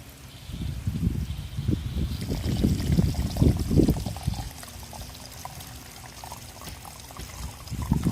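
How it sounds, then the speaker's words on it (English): Thick, algae-laden water pours straight out of a tote in a steady, splashing stream, loud and close, with a gurgling flow that eases off toward the end. "That's some pretty thick water there, just straight out of the tote."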